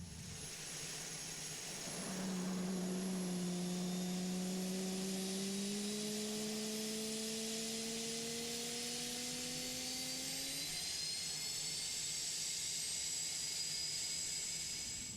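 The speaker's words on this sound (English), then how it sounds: "we'll jump to the outside just to listen to this fantastic noise." A jet engine on a Saab Gripen (Griffin G39) in Microsoft Flight Simulator spools up, its whine climbing steadily in pitch over several seconds beneath a broad roaring hiss, then holding at a high drone.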